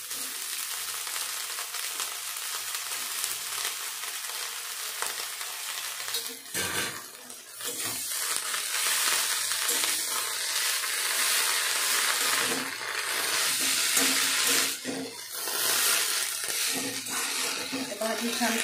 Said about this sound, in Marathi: भाजी छान परतून घेते मी।